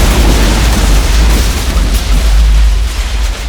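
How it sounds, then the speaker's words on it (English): A sci-fi habitat packed with lithium batteries explodes in a loud, sustained roaring blast with a deep boom, rolling on without letting up. "I watched the hab explode into livid flames"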